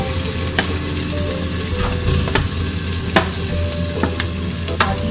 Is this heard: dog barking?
no